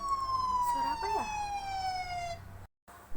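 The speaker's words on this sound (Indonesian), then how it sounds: "Wah, tadi ada suara sirene nih." A loud, near siren sounds a single sustained tone that slowly glides downward for about two and a half seconds, rich in harmonics, then cuts off abruptly into a brief silence.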